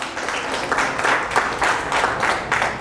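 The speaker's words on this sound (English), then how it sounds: "Round of applause for yourselves." Audience of women at a lecture breaking into steady applause, a dense wash of clapping with swelling pulses, fairly close and with no talk over it.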